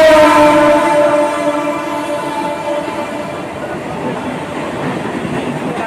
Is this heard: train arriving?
yes